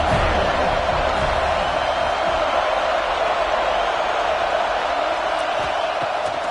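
A stadium crowd at a football game sends up a dense, steady wall of roaring and cheering on a big third down, loud and unbroken for several seconds, with no clear talk above it.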